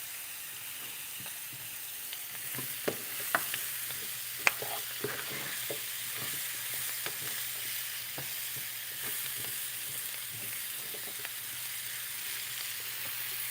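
Papaya curry made with garden ingredients simmers in a pot with a soft, steady sizzle, punctuated by faint scattered clicks and taps of stirring, with no talking.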